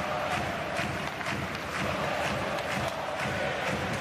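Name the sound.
ice hockey arena crowd cheering for home team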